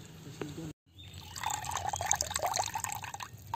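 Water is poured lightly into lemon juice and salt, making a soft, close trickling splash that follows a short pause and goes on for a few seconds.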